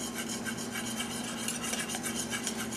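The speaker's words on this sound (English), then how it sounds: "Put that in, and then just kind of whisk" Brownie batter whisked in a bowl, a continuous rapid scraping and rubbing rhythm with fast repeated strokes, steady and moderately close.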